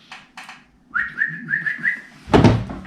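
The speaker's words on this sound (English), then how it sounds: "My whistle's dry." A person attempts to whistle, producing a few breathy airy puffs and then a short series of weak, wavering whistled notes, followed by a thump.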